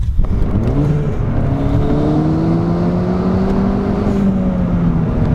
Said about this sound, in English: Let's get it on the road and take it for a drive.